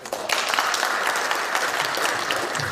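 Warm applause of thanks from a seated audience for a law professor at a panel discussion, starting abruptly and continuing as a dense, even wash of clapping for a couple of seconds.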